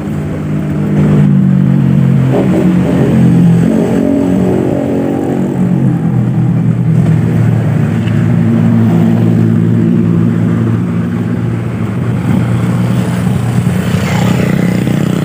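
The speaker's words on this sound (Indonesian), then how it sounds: "Nah, ini saat posisi digas sedikit aja ini jalan sendiri." An automatic scooter with a jerky, jumping clutch problem, its engine droning loud and close as the throttle is opened, rising early then holding a steady low rumble with slight wavering.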